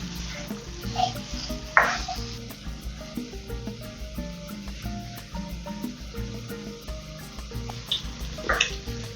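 Vegetables sizzle in a pan for Nigerian fried rice, a soft continuous frying hiss with a few brief stirring scrapes and louder crackles, fairly quiet and steady.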